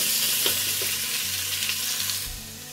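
Onions sizzle steadily in a frying pan as vegan jackfruit tinga is prepared, a continuous close hiss with a few faint scrapes and some low background hum underneath.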